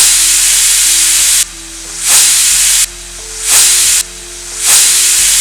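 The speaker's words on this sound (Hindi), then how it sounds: "अब यहाँ कुकर से गैस रिलीज होगी" A pressure cooker holding cooked peas for chole releases steam in loud, sharp hissing bursts up close, the jet cutting off and surging back in a repeating pulse about every second or so.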